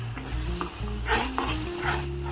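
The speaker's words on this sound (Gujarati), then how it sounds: "તો હવે હું નાખીશ એમાં રાજમા મસાલો। હવે હું આને પણ મિક્સ કરી લઈશ।" A spoon stirs rajma masala spices through hot oil in a pan, with a steady sizzle and scraping strokes close by, no voices.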